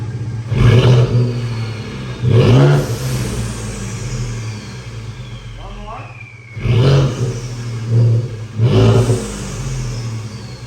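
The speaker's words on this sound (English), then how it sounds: "Now we're about to give it the first couple revs" A car's 3.5 EcoBoost engine with a new full exhaust system revs up hard four times in short bursts, loud and close, each roar rising then dropping back to a rumbling idle.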